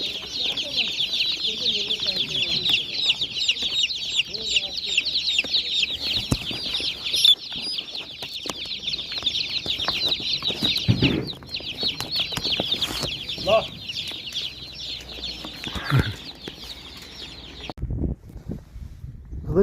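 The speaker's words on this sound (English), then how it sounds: "Live chickens." Chickens cluck and chatter steadily with high-pitched calls, close by, while faint voices murmur underneath; near the end the clucking stops abruptly.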